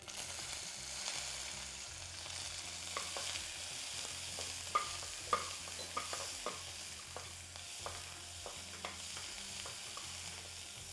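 Onions frying in oil with mustard and cumin seeds, a steady soft sizzle broken by repeated clacks of a spoon stirring the pan, close and fairly quiet, with no talking.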